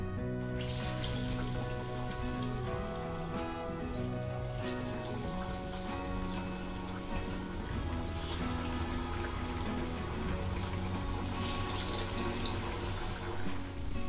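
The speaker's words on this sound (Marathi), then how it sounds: "याच पद्धतीने मी बाकीचे पण वडे तळून घेते." Dal vadas fry in hot oil with a continuous, steady crackling sizzle that stays even throughout and has no talk over it.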